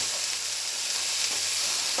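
Food frying in a pan, a dense, bright, continuous sizzle with faint stirring movement underneath, close and steady, no talk.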